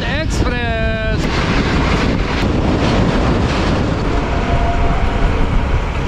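Shalimar Express pulling into Khanewal Junction on the Lahore to Karachi route: a loud, steady broadband rumble of the train with wind buffeting, and a brief harmonic horn or whistle blast near the start.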